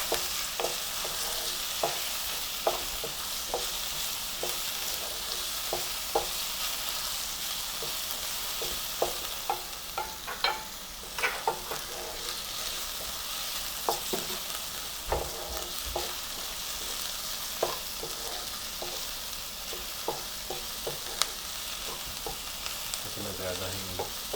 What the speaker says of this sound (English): And cook until the onions are softened.